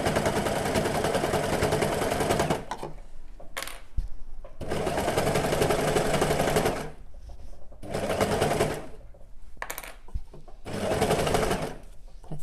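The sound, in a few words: overlocker (serger) sewing machine stitching fabric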